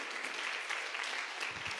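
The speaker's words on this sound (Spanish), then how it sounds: "¿alguien le puede dar palmas a Cristo?" A church congregation claps together, producing a dense, steady wash of applause that fills the room without a break for the full stretch.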